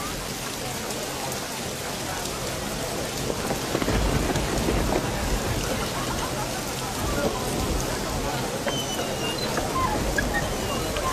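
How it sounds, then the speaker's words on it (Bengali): Heavy rain pours steadily through a dramatic film scene while thunder rumbles and swells about midway, a dense, loud, continuous wash of sound. "এর জন্যই তো রহমতের বৃষ্টি হচ্ছে।"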